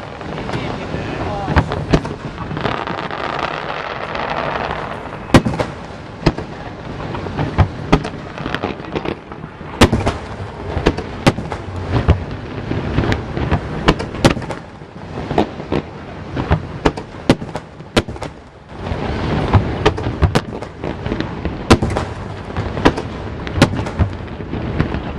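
Fireworks display with a steady barrage of booms and crackling bursts, some sharp and near, others rolling, over a constant outdoor wash of noise, with people talking faintly in the background.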